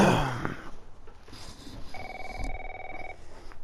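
A telephone rings in The Last of Us video game, a few electronic ring bursts in the middle of the scene with quieter game sounds around them.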